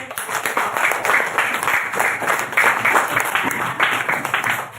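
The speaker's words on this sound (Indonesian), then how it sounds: "Tepuk tangan" Children clapping in a school classroom, loud and close, with dense overlapping hand claps that pulse in uneven bursts throughout.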